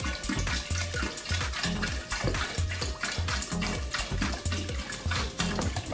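Ginger ale mixer is poured into a glass in a kitchen, a steady splashing, fizzing pour that runs throughout at moderate level, with light clinks of glassware and no speech.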